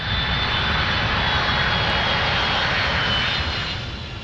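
A jet-engined aircraft roars past, a loud, broad, continuous rushing drone that holds steady before easing off slightly toward the end, with no voices.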